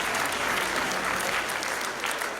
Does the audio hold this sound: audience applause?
yes